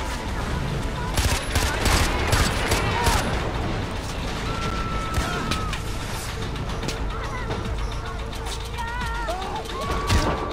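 Sustained gunfire in the video game Far Cry 4, with dense, continuous bursts of automatic shots and loud bangs over a busy, noisy game mix, while someone speaks over it now and then.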